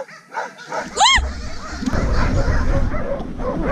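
Sled dogs out on a run bark, yip and whimper, with a sharp rising yelp near the start followed by continuous excited noise from the team and a wash of outdoor movement, loud and close.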